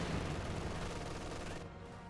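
Rapid gunfire rattles in a Company of Heroes 2 battle, dense overlapping bursts of machine-gun and rifle shots that roll on and then ease slightly.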